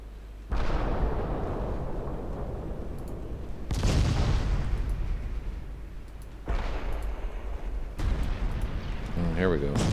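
Main guns of warships booming in Ultimate Admiral Dreadnoughts, with three or four heavy, loud salvos a couple of seconds apart, each one rumbling on under the next.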